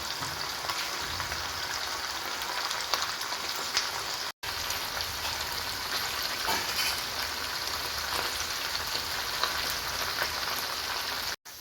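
Fish coated with green peppercorns frying in a pan with curry leaves, giving a steady, dense sizzle and crackle that stays loud throughout, with two very brief dropouts.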